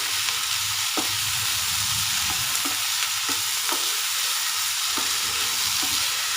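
Coconut gravy mixture frying in a pan while a spoon stirs it, a constant sizzle under a series of soft scraping knocks repeating roughly every second.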